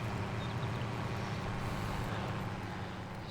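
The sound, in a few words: tractor engine noise in Farming Simulator 22 video game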